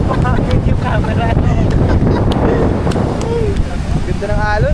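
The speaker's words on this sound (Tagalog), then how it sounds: "Ganda ng alon." Ocean waves slosh and wind buffets the microphone aboard a boat, a loud continuous roar with faint voices and snatches of music underneath.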